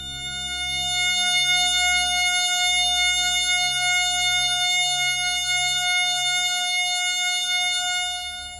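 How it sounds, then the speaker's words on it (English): Synthesized F sharp major chord held as steady, pure sustained tones with a low pulsing hum underneath, even and moderately loud, with no talking. "another F sharp major chord that sounds like this."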